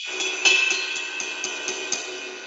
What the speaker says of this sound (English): they could never make a 24-inch ride cymbal